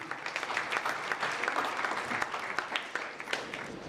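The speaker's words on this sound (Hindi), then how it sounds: "एक बार जोरदार तालियां छोटे बच्चे के लिए" Applause for a prize-winning student at a coaching academy seminar, a steady patter of many clapping hands in a hall, moderately loud and continuous from start to end with no voices over it.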